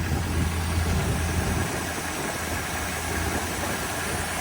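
An MGB engine fitted in a Land Rover 110 idles steadily at close range, a low, even rumble with a faint vibration hum that holds throughout without speech.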